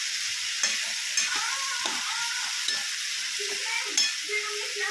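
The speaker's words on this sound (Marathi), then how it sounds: "ते छान असं एकत्र करून घेणार आहोत मिक्स" Potato sabzi being stirred in a pan after red chili powder goes in, with a steady sizzle under scattered scraping spoon strokes and a few clinks, close and fairly loud.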